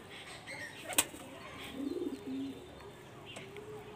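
High-flying jiria pigeons coo softly in a loft, a short low murmuring burst in the middle, with brief wing flaps and a sharp knock earlier against faint background noise.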